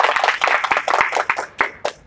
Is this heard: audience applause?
yes